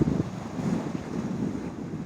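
Wind gusts buffet the microphone on Southend-on-Sea beach with boats out on the water, producing a low, rumbling roar and steady wash of waves with a strong gust at the start and no speech.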